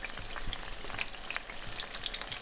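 Zucchini slices fry in a pan with a continuous close sizzle, crisp crackles and small pops spread throughout the short stretch, no talking.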